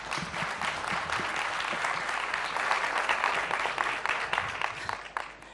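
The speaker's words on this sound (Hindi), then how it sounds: "एक बार जोरदार तालियां।" An audience at a stage interview event bursts into sustained, dense applause, many hands clapping together for several seconds at steady strength before thinning out at the end.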